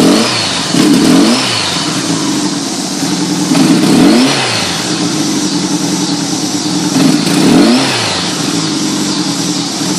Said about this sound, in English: if I try to get on the gas, it hesitates a lot